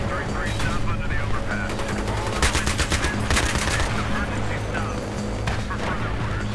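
Rapid automatic gunfire in Battlefield 3 gameplay, dense and continuous bursts with helicopter-like rumble beneath, loud throughout the whole stretch while someone talks over the action.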